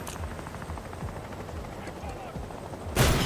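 A grenade explodes in the tactical shooter game Door Kickers 2, a sudden loud broadband blast near the end that follows a steady stretch of background gunfire and low rumble.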